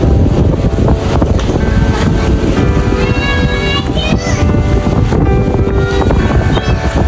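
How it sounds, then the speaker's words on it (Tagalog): Strong, steady beach wind roars and buffets the microphone throughout, with faint voices and some tonal sounds in the background, at Sitio Tangal in Palauig, Zambales. "Sobrang lakas ng hangin."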